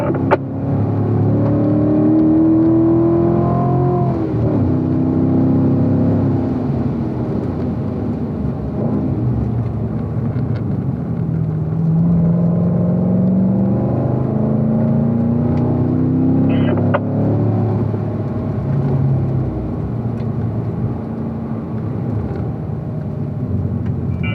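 A Chevrolet Corvette at the Ron Fellows Corvette Racing School on the Spring Mountain track pulls hard through corner exit, its engine note climbing, dropping at gear changes and climbing again, loud and close from inside the car.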